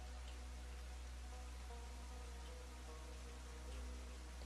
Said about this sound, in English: it's unfortunate the rain is so intense right now.